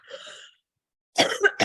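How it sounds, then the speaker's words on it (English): Two bursts of coughing from a woman: a short, softer hack, a pause of silence, then a louder, harsher run of coughs close to the microphone, with no talk over them. "I keep coughing"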